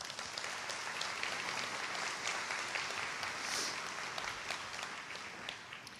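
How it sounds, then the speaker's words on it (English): Sustained applause from an audience at a sustainable growth summit, a steady even wash of many hands clapping at moderate volume, fairly quiet and distant throughout. "Please join me in thanking them with a round of applause."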